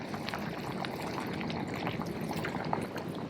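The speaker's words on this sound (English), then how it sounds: "I have some cornstarch water here. I'm just gonna add that in." Cornstarch water is poured into a pan of crab sauce cooking with black pepper, a soft steady bubbling and liquid sizzle with small pops, fairly close and quiet, with no talking.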